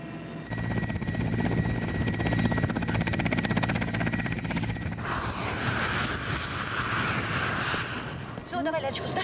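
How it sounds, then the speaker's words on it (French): A steady helicopter rotor and engine drone fills the scene as it lands in Siberia, loud and continuous, with a voice briefly audible near the end. "L'hélicoptère atterrit à côté d'un tchoum"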